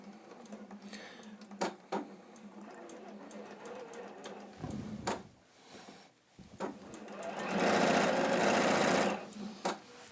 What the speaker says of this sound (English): Now I'm going to sew them together.